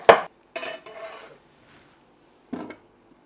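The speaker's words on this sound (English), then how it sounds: "next I'll cut up some cucumber" A knife cuts cucumber slices on a board in a few separate, close, crisp chops with short gaps, the first the sharpest, with slight rubbing sounds between.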